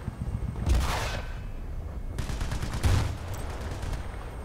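Gunfire in the video game Battlefield: Bad Company 2, with two heavy booming shots about two seconds apart over a constant loud rumble of battle noise, and no speech.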